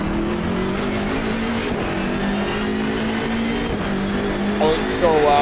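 A BMW M4 race car accelerates hard at a race start at Monza, its engine roaring loud and close from inside the car and climbing through the revs, with a voice speaking over it.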